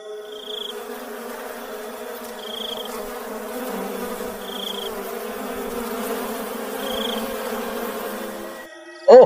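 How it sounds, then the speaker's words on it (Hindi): Flies swarm around a filthy hut, a continuous close droning buzz that holds steady for several seconds with a faint high repeating chirp, ending in a short sharp sound. "उस कुटिया में काफी गंदगी होती है जिस पर मक्खियां भिनभिना रही होती हैं।"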